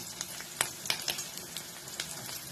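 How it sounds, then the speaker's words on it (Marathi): Onion fries in a pan for a green tomato vegetable dish. Soft, close sizzling crackles along with scattered pops and the scrape of stirring, with no talk. "या ठिकाणी कांदा थोडा भाजलेला आहे, जास्त भाजायचं नाही आहे"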